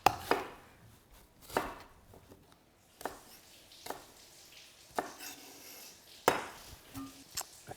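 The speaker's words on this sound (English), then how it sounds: "I think I'm just gonna rough chop these onions." A knife rough-chops onions on a cutting board, a series of irregular sharp thunks spaced a second or so apart with quieter scraping between them, close and fairly faint.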